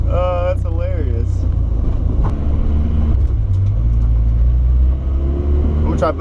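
A Toyota Mark IV-style project car's engine runs steadily while driving, a loud continuous low rumble that holds a constant drone throughout, with a voice talking over it at the start and again at the end.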